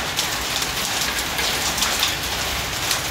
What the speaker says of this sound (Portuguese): Vindo pedrinha, olha só. Que chuva tá aqui.